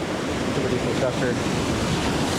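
Ocean surf rolling in at Newport Beach during surf fishing, a steady broad wash of breaking waves with wind buffeting the microphone, and someone talking over it.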